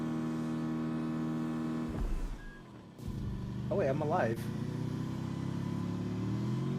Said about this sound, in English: the engine sounds like it's going crazy